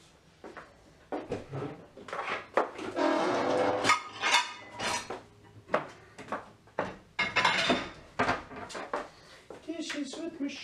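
Dishes are washed by hand in a kitchen sink: clattering plates, clinking cutlery and splashing water come in irregular bursts close by, with a person talking throughout.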